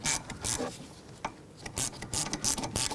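A ratchet tightens a rear brake hose bolt at the caliper of a 2011-2018 Volkswagen Jetta, making close, quick bursts of clicking pawl sounds in short repeated runs with brief pauses between.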